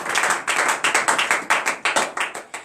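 A congregation at a morning prayer service in Comè, Benin, claps in a steady rhythm, about a dozen crisp, even claps at a brisk pace with no talk over them.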